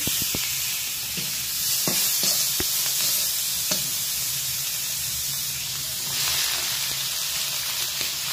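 Spiced tiger prawns fry in a pan with a loud, steady sizzling hiss and a few sharp clicks of stirring early on, continuing without any speech.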